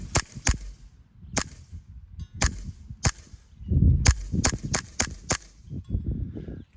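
Airsoft pistol fired one-handed at a target 120 feet away: a series of sharp, snappy pops, irregularly spaced and close, with faint handling noise between shots.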